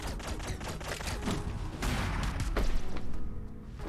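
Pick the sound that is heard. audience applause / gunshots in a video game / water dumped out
gunshots in a video game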